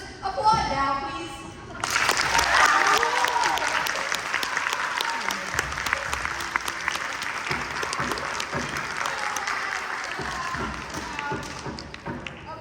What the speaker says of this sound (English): just applaud now, please.